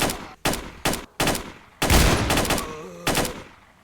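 Pistol shots ring out in the S.T.A.L.K.E.R. video game: four loud, evenly spaced cracks, then a longer burst of fire with a ringing tail, and one more shot near the end, all close and punchy.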